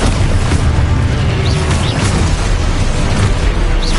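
An Exposo spell explosion in Hogwarts Legacy, a loud, dense rumbling blast filling the whole clip with steady booming noise and small sparkling pops on top.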